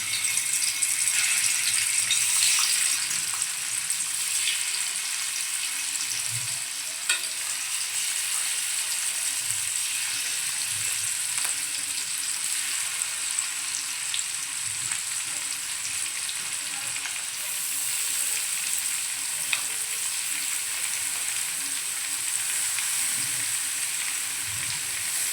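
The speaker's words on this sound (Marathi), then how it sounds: "तेल छान गरम झालंय। त्यामध्ये आता आपण मांदेली सोडूया मॅरिनेट" Marinated mandeli fish fry in hot oil for a Malvani-style fry, a loud continuous hiss and sizzle with faint rattling clinks of the pan, steady throughout with no talking.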